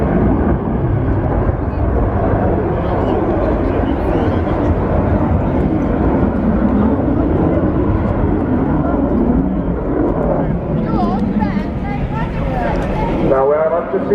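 An aerobatic airplane dives at 45 degrees at the RIAT air show, a loud, sustained engine roar that swells and shifts pitch while a commentator talks over it.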